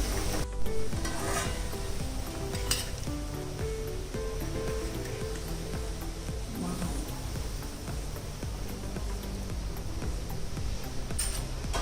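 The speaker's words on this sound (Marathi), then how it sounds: "आता गॅस बंद करूया आणि हा तडका या भाजीमध्ये आपण घालायचा आहे" Garlic tempering poured into a pan of fenugreek vegetable, giving a soft sizzle and crackle with a few sharp clatters of a utensil early on, moderately quiet and steady throughout.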